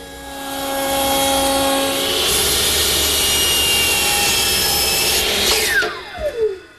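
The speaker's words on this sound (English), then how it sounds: "The top edges of each rail, I'm using a portion of a 1-inch radius router bit in my router table." A router table fitted with a 1-inch radius bit shapes the top edges of wooden chair rails. The motor whines up to a loud, steady roar with a cutting rasp, then spins down in a falling whine.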